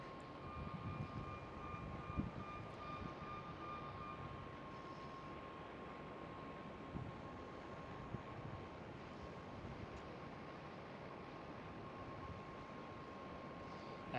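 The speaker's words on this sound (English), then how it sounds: "Next one up for runway 18 left. Looks like it is Qatar Cargo." A Qatar Cargo aircraft on runway 18 left at Schiphol Amsterdam gives off a steady, distant engine roar with a faint whine, continuous and unchanging with no voices.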